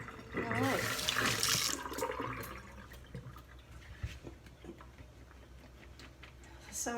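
Tap water runs into a kitchen sink while freshly trimmed green beans are rinsed and drained, gushing loudly for the first two seconds before fading to quieter dripping and handling sounds.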